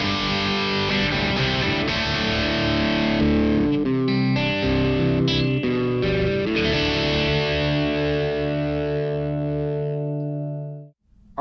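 Electric guitar through a drive pedal into a Soldano Astro 20 amp, played as crunchy distorted chords and riffs with a thick, saturated tone, loud and alone, ending on a sustained ringing chord that is cut off abruptly.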